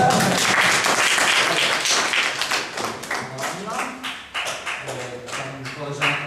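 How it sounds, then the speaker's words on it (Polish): Audience applause at a literary festival in Świdnica, dense clapping close by that thins into scattered claps, with voices speaking over it toward the end. "Joanna, brawa dla Joanny."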